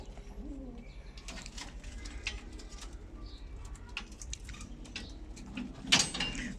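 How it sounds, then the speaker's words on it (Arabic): Birds call intermittently: soft cooing and scattered chirps over a low background hum, with a brief louder knock near the end. "وهاي الطيور"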